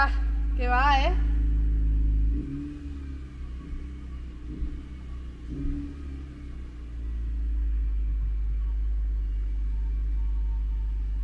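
A Honda CR-Z hybrid car with a modified sport exhaust idles cold just after start-up, giving a steady low rumble close by while people talk over it.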